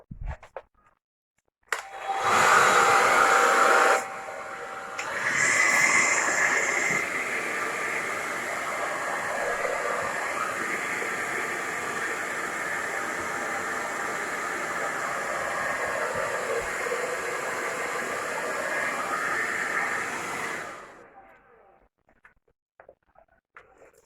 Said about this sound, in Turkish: Hemen fön makinesini açıyoruz ve üflüyoruz.